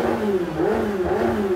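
A Lamborghini Aventador SVJ or McLaren 720S hypersport convertible engine revs loudly in quick wavering surges, the pitch rising and falling close by with no talking.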